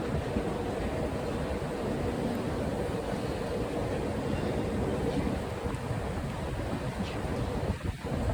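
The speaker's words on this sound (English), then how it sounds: "Ooh, so windy." Wind gusting at a Sydney train station, steady rough buffeting across the microphone, fairly faint and continuous with no talk over it.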